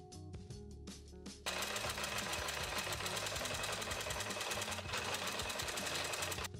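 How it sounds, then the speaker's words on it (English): Sewing machine stitching a tote bag seam at 3/8 inch: after a few brief starts, a fast, steady mechanical whir and rhythmic needle chatter runs continuously, loud and close, with no talking. "Then we're going to sew at 3/8 of an inch all the way around."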